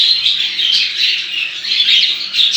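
A flock of bred cockatiels squawks and chirps continuously, loud, shrill and close, with overlapping calls and no talking.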